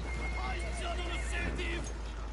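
A horse in a video game gives a whinnying neigh with faint hoof clops beneath, brief and moderately loud under low background noise.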